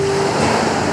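Sea waves wash continuously around Sarushima island off Yokosuka, a loud, dense surf roar with a faint steady hum mixed in and no voices.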